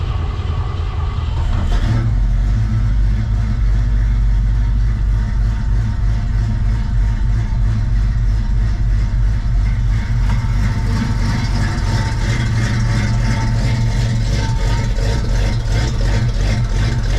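A 1973 Mercury Comet engine with a small exhaust leak idles steadily, a loud low rumble with a slight change near the start, continuous and close, with no talking.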